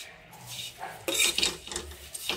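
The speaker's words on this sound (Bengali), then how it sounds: "তো চলো আগে চিড়াটা ভেজে নিই" Pots, pans and metal utensils clatter and scrape while flattened rice (chira) is fried in a home kitchen, with irregular clinks and stirring scrapes that grow louder partway through.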